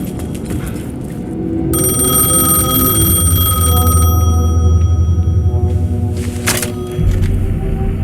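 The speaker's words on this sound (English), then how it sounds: "payphone was ringing" A payphone rings in the video game Alan Wake 2, a loud, insistent electronic bell ringing that starts after a moment and keeps going over a low ambient rumble.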